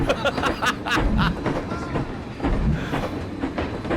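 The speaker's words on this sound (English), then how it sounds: "so I can hear myself think over the train tracks" A theme park video game train rattles along its tracks with continuous clickety-clack and rumbling, loud and steady throughout, with no voices.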